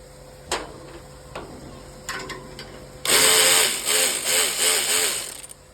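An Ingco power ratchet machine fires up after a few clicks and handling knocks, then whirs loudly for several seconds with a pulsing, rattling drive as it tightens.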